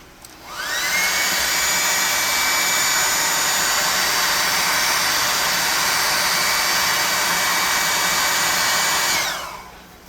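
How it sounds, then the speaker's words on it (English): A hair dryer blows on painted model trees for tabletop gaming, spinning up and then holding a loud, steady high-pitched whine and rush of air for about eight seconds before shutting off. "we're going to have to hit this with the air dryer. The hair dryer, not air dryer."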